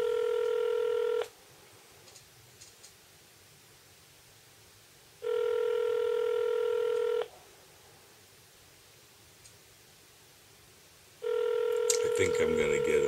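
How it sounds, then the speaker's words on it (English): A telephone ringback tone plays over a speakerphone, three long electronic rings separated by about four seconds of quiet line hiss, with the third ring cut off by a clicking pickup. "Ringing."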